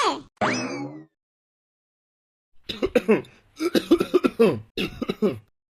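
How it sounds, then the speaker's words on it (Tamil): Two sharp, raspy coughs burst out up close, followed by a pause and then a person speaking. "சாதாரண இருமல் தான்"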